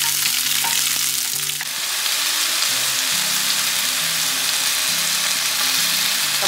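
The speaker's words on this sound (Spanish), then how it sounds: "Vamos a sofreír nuestra cebolla hasta que quede bien caramelizada" Onion and a large garlic clove fry in a pan with a loud, continuous sizzle up close. It briefly eases and then rises again with a low, steady hum underneath.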